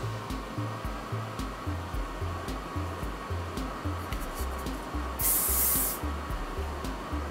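Rock On Flexible Hold hairspray sprayed onto hair, one close, loud hissing burst lasting under a second, set against a steady rhythmic background music track.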